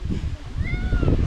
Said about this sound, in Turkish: bu kedi miyavlayıp miyavlayıp duruyor ya